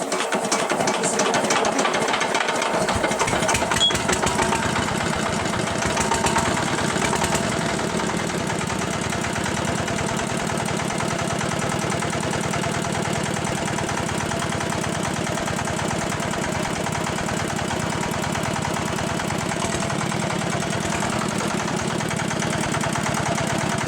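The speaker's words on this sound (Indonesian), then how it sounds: "jadi ini mesin sudah nyala" An R100 diesel engine runs steadily at idle after starting, a continuous close, loud mechanical chugging with a fine rapid knock that stays even throughout, no voices over it.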